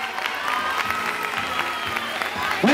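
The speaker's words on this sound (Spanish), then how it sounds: "¡El aplauso para ellos!" Crowd applause at a chirigota and folk group contest in Bailén, steady and dense with some cheering mixed in, sustained throughout at moderate loudness.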